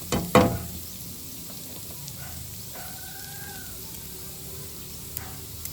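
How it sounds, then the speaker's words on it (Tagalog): Garlic sautéing in hot oil for miswa, a low steady sizzle that opens with a brief louder clatter and then continues quietly with faint background noise. "Igisa na natin para magluto na tayo ng miswa. Pag medyo brown na yung ating bawang"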